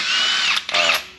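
A power tool whirs loudly up close while removing caliper brackets on a 2018 Jeep Wrangler: two high-pitched bursts split by a brief dip, then a quick wind-down.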